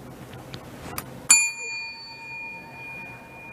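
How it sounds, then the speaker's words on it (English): A single bell strike rings out once, bright and fairly loud, then its tone hangs and slowly fades over a quiet background. "Is that why he was ringing the bell?"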